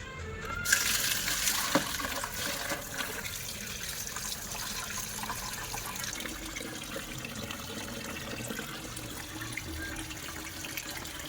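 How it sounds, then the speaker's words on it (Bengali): Tap water runs steadily into a sink while anklets are washed under the stream, a close, continuous splashing rush with no talk over it. "চলো নুপুরগুলো ধুয়ে দেখি কতটা পরিষ্কার হয়েছে"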